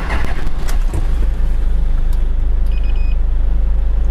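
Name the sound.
car engine being started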